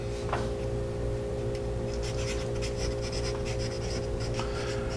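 A Stanley carpenter's pencil scratching across paper in short, slightly rough strokes over a steady low hum, fairly close and unaccompanied by speech.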